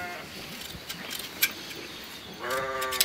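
A sheep bleats near the end during shearing, a drawn-out, wavering call heard close by over rustling and scattered clicks of handling.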